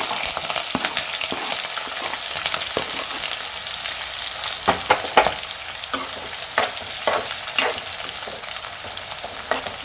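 Chopped onions and green chillies fry in a pan for ridge gourd curry, a loud, close sizzle broken by frequent scraping and stirring clicks.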